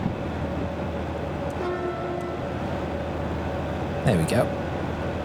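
Locomotive engine in the train simulator game Derail Valley picking up speed, a steady low rumble and drone with a brief high squeal near the end, a voice speaking briefly over it.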